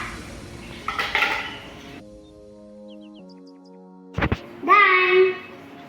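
Oreo biscuits dropped into a blender jar for a milkshake give a few short clinks and rattles near the start, then a louder burst of knocking and clattering against the jar near the end, with a quiet stretch between.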